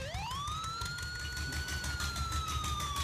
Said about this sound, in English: a screeching kind of sound, kind of like a siren. Yeah, would that be a police siren?